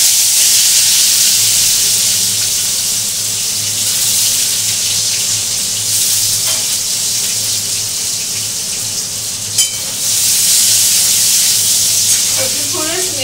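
Garlic tempering sizzling in hot oil with black cumin, a steady broad hiss throughout that swells near the start and end, with a faint clink partway through.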